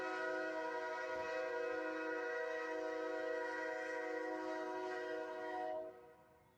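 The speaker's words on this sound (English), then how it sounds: "Train's coming!" A train in Navasota, Texas sounds a loud, steady horn blast that holds its tone for several seconds, then quickly fades at the end, with no voices.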